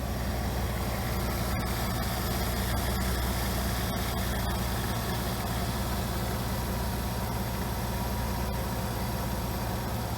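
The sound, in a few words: V8 car engine idling smoothly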